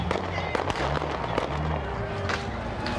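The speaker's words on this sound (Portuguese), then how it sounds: "Houve tiroteio intenso." Rapid sharp cracks of intense gunfire during riots over the Michael Brown case, several bursts spread across a loud, noisy urban scene with a steady rumble underneath and no talking.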